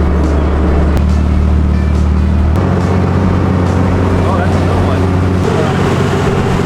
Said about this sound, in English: The boat ride out to the island took about 20 to 30 minutes.